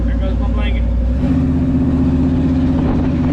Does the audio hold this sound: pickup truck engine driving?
yes